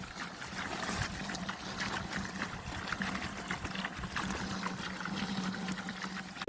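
Water pouring from an irrigation pump fountain on a farm, a steady splashing flow running continuously at moderate level with no talk.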